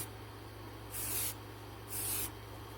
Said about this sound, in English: I just start spray painting it a bit.